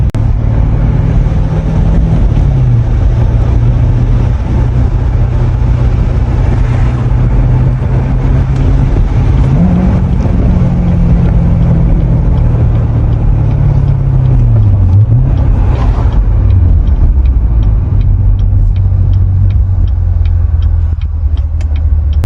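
A 2016 Chevrolet Corvette Stingray C7 driving at night, heard from inside as a loud, continuous low engine drone whose pitch rises and falls with shifts and throttle changes.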